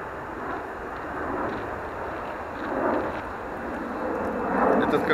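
A distant airplane roars steadily at the observation deck of Frankfurt Airport, a broad rumbling wash that swells slightly toward the end, with wind buffeting the microphone.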